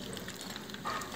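Breaded shrimp frying in hot oil, producing a soft, steady sizzle and crackle, close by and faint, with no speech.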